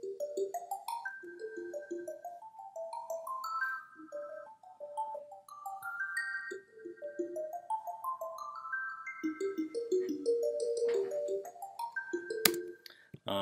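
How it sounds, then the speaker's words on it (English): Brushed bell synth tones from Ableton Live, driven by grand piano MIDI through an arpeggiator, ripple in quick rising and falling note runs with a bright chiming shimmer, steady and alone for about thirteen seconds. "the brushed bells with the MIDI from the grand piano and an arpeggiator on it"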